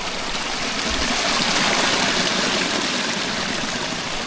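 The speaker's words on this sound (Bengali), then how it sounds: "পাহাড়ের গা বেয়ে নামছে জল ছলাচ্ছল" Mountain stream in West Sikkim rushing down a hillside, a dense, steady roar of flowing water, loud and unbroken with no voices.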